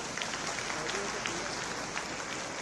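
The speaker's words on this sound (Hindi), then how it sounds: "एक बार जोर से तालियां बजाओ" Audience at a political rally in Jaipur for Chief Minister Bhajanlal Sharma claps in a brief, dense burst of applause heard at a distance, with some voices mixed in.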